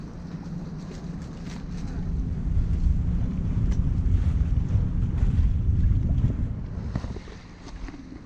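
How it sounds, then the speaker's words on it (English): Bavaria 41 sailboat under full sail at about six knots, tacking up a sound against current: steady rushing wind and water noise with low hull rumble, swelling louder midway and easing near the end, no talk. "We are full sails up and we are doing 6 knots."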